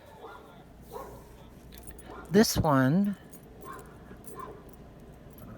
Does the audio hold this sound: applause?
no